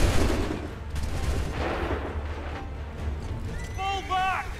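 Soldiers fire a volley on command in the Assassin's Creed 3 battle, a dense burst of musket gunfire over a busy ambient battlefield din, with shouted voices heard near the end.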